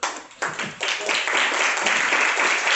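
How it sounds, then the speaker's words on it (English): Applause from a young audience at a youth event on development goals, starting as a few scattered claps and quickly building into steady, moderately loud clapping. "the applause is not to be taxed"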